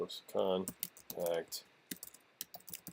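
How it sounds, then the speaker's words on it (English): Keys tap sparsely on a computer keyboard, a handful of crisp, close clicks after a brief stretch of voice. "And then I'm going to go over here and type, I'll even type contact"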